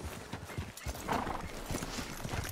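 Horse hooves clip-clop in steady rhythmic steps with a short whinny partway through, from a horse in the Red Dead Redemption 2 video game, close and moderately loud.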